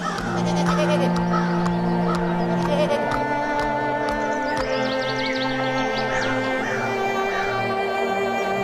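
Bleating calls from a goat in an animated Hindi folk story, several wavering cries over a continuous busy musical and ambient bed, fairly loud throughout.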